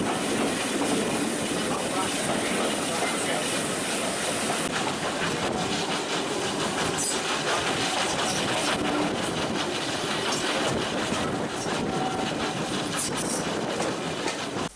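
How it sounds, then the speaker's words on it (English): A train on the Bo'ness & Kinneil Railway crosses the viaduct over the River Avon between Birkhill and Manuel, a steady rumbling, hissing roar with faint rhythmic clatter, loud and continuous throughout. "Between Birkhill and Manuel, the railway crosses a viaduct over the River Avon"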